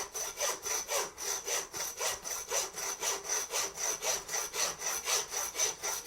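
A butcher's saw cuts through venison loin bone with steady back-and-forth strokes, about three per second, each rasping pass even and close, with no talk over it.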